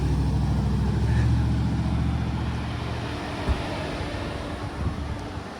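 A truck with a 5.3 engine is driven, its steady low rumble loud and close inside the cab, mixed with broad road and wind noise that lightens slightly after a few seconds.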